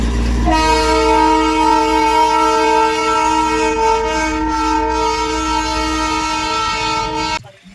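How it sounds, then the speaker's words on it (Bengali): A loud, sustained horn from the Darjeeling toy train blares steadily for several seconds, close by, then cuts off abruptly, with rumbling rail noise underneath. "দার্জিলিং এসে যদি আমরা এই টয় ট্রেনই না দেখি"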